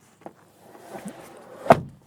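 A single solid thunk of a 2018 Honda Accord or 2018 Subaru Forester car door shutting, fairly close, after a few softer rustles and small knocks.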